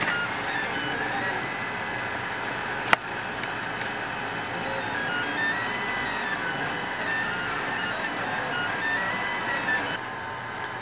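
Lulzbot Taz 5 3D printer priming its print head and laying down the first layer, a steady whirring motor hum with faint stepper tones and one sharp click partway through, heard alone.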